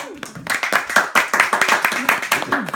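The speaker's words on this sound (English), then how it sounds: "If you agree, you can applaud." Guests at a family bris ceremony held in a home clap in a close, lively burst, individual hand claps distinct and uneven, with voices talking over and between them.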